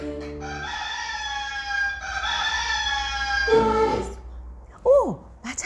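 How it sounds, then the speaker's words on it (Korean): A rooster crows nearby in long, strained calls, followed by a few shorter sounds at the end. "꼬꼬꼬꼬꼬꼬꼬 수탉의 소리였구나"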